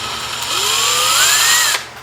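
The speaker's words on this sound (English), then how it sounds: "Take a flat-headed screwdriver and put it in the drill," Power drill fitted with a flat-head screwdriver bit, used in a solar array project, whirs steadily for nearly two seconds, its pitch rising as it speeds up, then cuts off abruptly; loud and close, with no talking.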